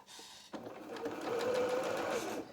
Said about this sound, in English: I'm just going to run some stitches just with 1/8 of an inch from the edge just to tack all of this down